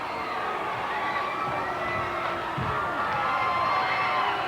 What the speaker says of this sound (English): Listen to this crowd in Montgomery.